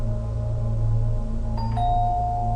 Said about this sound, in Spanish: La siguiente vez que fue de visita tocó el timbre.